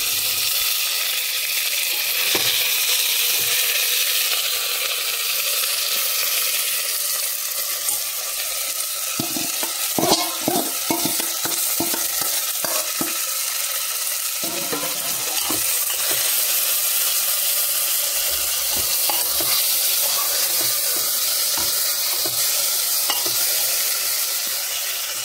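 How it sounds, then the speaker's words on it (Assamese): Marinated chicken pieces for biryani fry in a pan with a constant loud sizzle, while a spatula scrapes and knocks against the metal in bursts of rapid stirring. "এতিয়া মেৰিনেট কৰি থোৱা মাংসখিনি মই ইয়াত দি 10 মিনিটমান ভাজি থাকিম"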